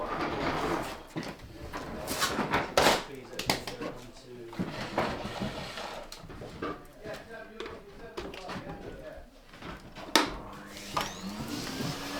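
A workshop vacuum cleaner sucking up sawdust, running with an uneven, rattling roar and a few sharp clunks. Someone speaks intermittently over the noise.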